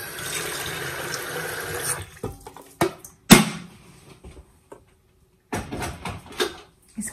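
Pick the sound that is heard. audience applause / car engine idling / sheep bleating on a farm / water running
water running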